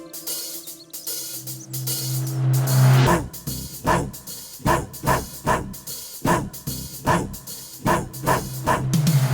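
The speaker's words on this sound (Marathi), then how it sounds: "भो भो करून तो करतो रखवाली" A cartoon guard dog barks in a rapid series of loud, close woofs, about a dozen regular barks following a brief whining lead-in, with no talking.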